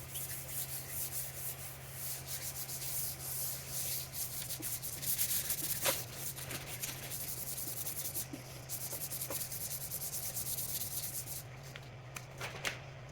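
Sandpaper worked over auto body filler on restored metal parts of a 1961 Shopsmith Mark 5, a steady close scratchy rubbing that continues without pause, with a low constant hum beneath.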